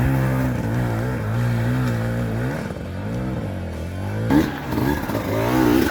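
A Beta 300 two-stroke motorcycle, a 2025 model, revs and pulls loudly close by, its engine pitch rising and falling through several throttle surges with a brief lull in the middle.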